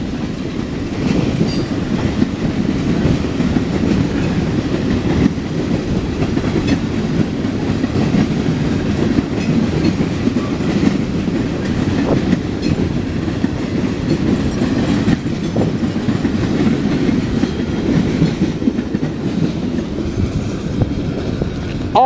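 A CSX westbound coke freight train passes in Fostoria, Ohio, a loud steady rumble of rolling railcars with rhythmic clickety-clack from the wheels, close by and sustained without letup.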